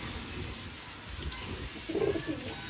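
Pigeons in a loft coo softly, a low burbling call rising briefly near the end over steady room noise.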